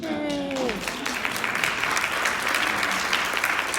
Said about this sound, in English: So you can clap on that.